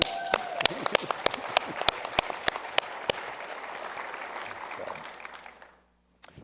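A crowd at a Florida workforce development forum applauds, with a dense wash of clapping and some sharp individual claps standing out, fading away toward the end.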